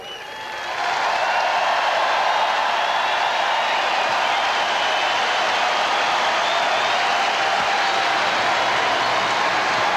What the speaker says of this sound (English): One more big round of applause, everybody.